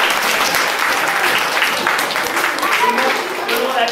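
Steady, loud applause from an audience at a children's Easter event in a château salon, continuous dense clapping filling the room, with voices mixed in.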